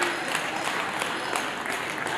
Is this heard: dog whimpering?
no